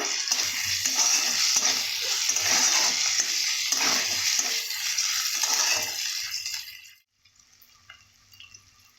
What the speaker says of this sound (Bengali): আদা রসুনের গন্ধটা যাতে না থাকে তার জন্য ভালো করে ভেজে নেব